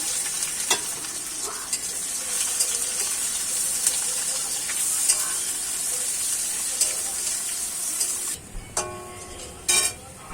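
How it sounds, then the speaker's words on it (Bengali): Sliced onion, bay leaves and white cumin seeds sizzle in hot oil for a fish dish, a continuous loud hiss with occasional spatula scrapes and a few taps near the end. "দুটো তেজপাতা, পেঁয়াজ, এই যে পেঁয়াজ দিচ্ছি, পেঁয়াজ ফোড়ন"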